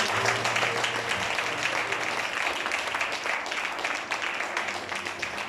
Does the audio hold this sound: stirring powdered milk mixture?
no